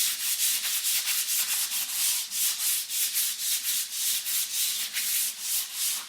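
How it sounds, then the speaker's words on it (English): Sandpaper rasps back and forth with the grain across wood in a quick, even rhythm, close and loud, about three strokes per second with no voices. "you keep sanding it until everything's smooth."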